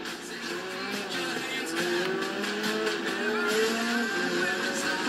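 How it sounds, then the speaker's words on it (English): Rally car engine racing in Forza Horizon 3, a steady high-pitched engine whine that shifts pitch as the car accelerates, with tire noise and a continuous roar throughout. "And then the rally engine you can hear"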